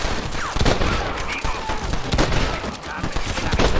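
Gunfire erupts during a cutscene in the Western video game Red Dead Redemption, with rapid, loud overlapping shots and bursts alongside shouting voices.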